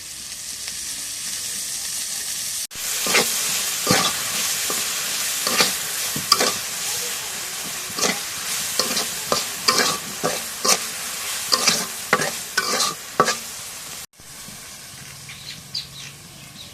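Curry frying in oil with steady sizzling broken by repeated sharp stirring scrapes, continuous and close, with a brief pause near the start and another near the end.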